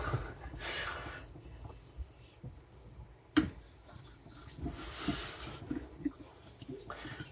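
A custom knife blade is drawn across a sharpening stone to refine the apex, giving steady rasping strokes with a brief pause and a sharp knock midway, close and fairly quiet.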